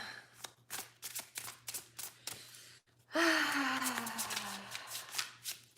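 Tarot cards being shuffled in rapid, papery riffles and flicks, a steady close-up rhythm that is briefly broken by a soft gasp-like exhale before the shuffling carries on.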